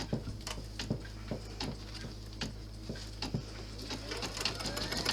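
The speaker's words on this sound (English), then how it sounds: "So we're going to stitch that down now." A sewing machine stitches felt down onto a wallet flap, its quiet, steady hum broken by regular soft ticking stitches, close and alone at low volume.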